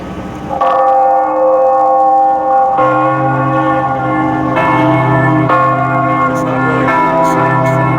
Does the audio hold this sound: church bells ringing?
yes